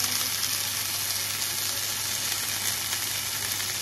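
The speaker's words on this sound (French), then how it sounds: "Je le fais griller juste à la poêle. Sans huile, rien du tout." Homemade fish sizzles as it grills in a pan without oil, a steady close crackling hiss that continues evenly with no voices.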